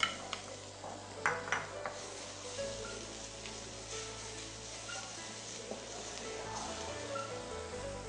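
Cashews, almonds, cumin, chili, ginger and garlic frying in a pan over low heat give a quiet, steady sizzle, with a few light clinks of a utensil against the pan near the start.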